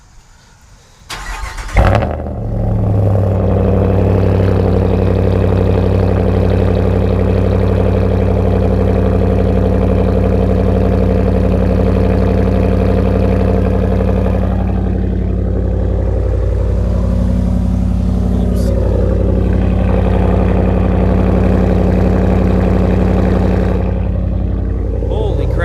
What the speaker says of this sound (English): Let's test out my Ram. This has a full muffler lead, and this has the Hemi in it.